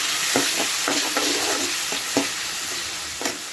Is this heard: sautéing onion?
yes